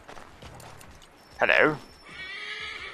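A horse whinnies loudly in the Assassin's Creed 3 video game, a single rising and falling neigh near the middle, with soft hoof clip-clops and a short spoken greeting before it.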